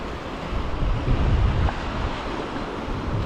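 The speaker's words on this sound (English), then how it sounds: "oh, the wind is terrible." Strong wind beside the River Deveron in March roars steadily, with heavy low buffeting on the microphone swelling and easing, no voices.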